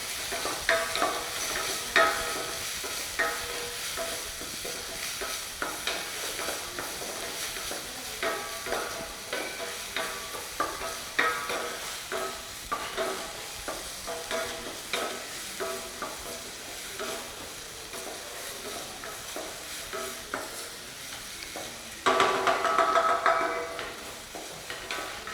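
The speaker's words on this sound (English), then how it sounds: "You stir this onion, garlic, and leeks and the green peppers until brown." Onion, garlic, leeks and green peppers sizzle steadily in a pan for Saint Germain soup, with rhythmic scraping stirs throughout and a louder burst near the end.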